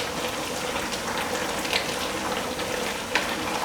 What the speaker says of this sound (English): let's check on our stew. Quick mix.